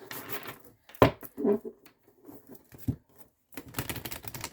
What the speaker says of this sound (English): We'll just shuffle until the cards feel about right.